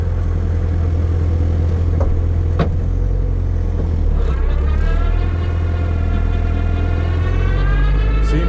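A car fitted with a Speedtek straight-cut KA24DE 5-speed gearset drives along with a loud, steady drivetrain drone and engine rumble close by. A rising whine from the gears builds toward the end, with a couple of brief clunks.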